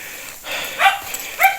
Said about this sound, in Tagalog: Narinig na natin yung mga aso niya.